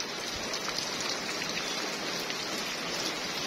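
Steady rain falls in hot countryside farmland, an even hiss of drops on surfaces that holds constant and moderately loud throughout, with no voices.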